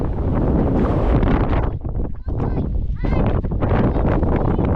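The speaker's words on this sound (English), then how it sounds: "As soon as there's any wind comes up, it's I mean, that's the first gust." Strong wind on Helvellyn mountain buffets the microphone in a loud, roaring rush, easing briefly in the middle before gusting hard again.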